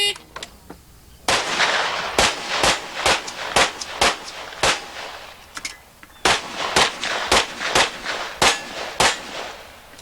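Rapid strings of loud, sharp pistol shots crack out in two bursts of about eight each, with brief pauses between, as a competitor runs a practical shooting stage at a 1989 USPSA national championship.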